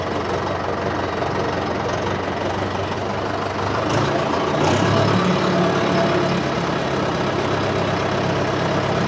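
Several tractors sit with their engines running before a trip to haul soil, making a loud, steady, throbbing diesel rumble that fills the whole stretch and swells slightly partway through.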